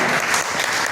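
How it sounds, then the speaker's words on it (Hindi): Loud, dense applause from an audience at an award ceremony, a continuous close wash of many hands clapping with no pause. "बहुत जोरदार तालियां"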